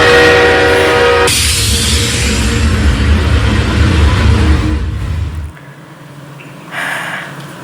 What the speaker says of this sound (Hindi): सामने से ट्रेन आ रही थी।